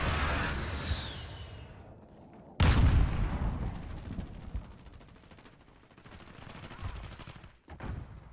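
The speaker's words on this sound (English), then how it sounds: "Enemy precision airstrike." Precision airstrike explosions in the Call of Duty Modern Warfare game: a sudden loud, close blast followed by rumbling and crackling gunfire that fades and rises again, with sporadic game sounds.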